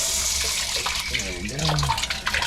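Water drains with a gurgling, splashing rush from a decompressed main water line in a pit, running close under a short spoken remark.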